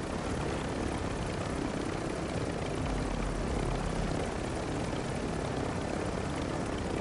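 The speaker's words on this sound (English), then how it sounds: "I thought that was the X-Field chopper." Steady, loud helicopter rotor and engine roar from Warzone 2 DMZ holds a constant dense wash throughout, close and unbroken, with no talk.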